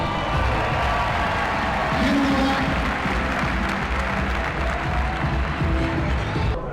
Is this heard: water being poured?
no